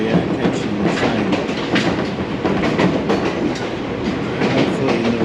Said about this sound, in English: Here we are catching the train